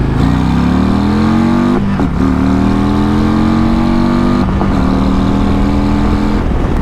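Harley-Davidson motorcycle with a stock titanium Screaming Eagle exhaust revs loudly up close, its deep engine note climbing steadily in pitch with two brief dips between pulls, no voices.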